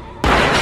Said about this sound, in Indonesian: Isabel muncul dan langsung melayangkan tembakan ke arah Jekyll.